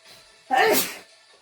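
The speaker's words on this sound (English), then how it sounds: "I had to sneeze" A single loud sneeze, sharp and close, with a brief breathy intake just before it.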